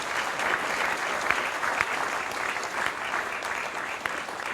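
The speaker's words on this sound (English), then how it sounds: "So give them another round of applause." An audience at a graduation ceremony at Bhaktivedanta College of Education and Culture claps in steady, dense applause that fills the room evenly from start to finish without pause.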